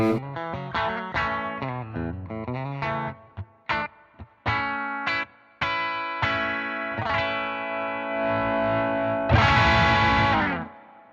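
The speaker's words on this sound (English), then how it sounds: "That's what I like to hear out of an overdrive pedal, man." An electric guitar played through an overdrive pedal plays alone: a run of crisp picked notes and stabbed chords with short gaps, then a sustained, brighter strummed chord that rings out and fades.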